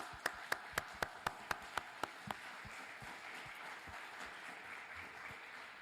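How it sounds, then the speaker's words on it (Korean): A church congregation at a New Year 2025 service applauds, one nearby pair of hands clapping in a sharp, regular beat before the wider crowd's softer, steady applause takes over. "a big round of applause."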